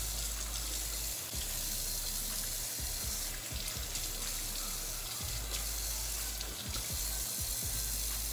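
Running tap water splashes steadily into a sink as crab boil ingredients are rinsed, a continuous close hiss and patter with brief handling knocks, without speech.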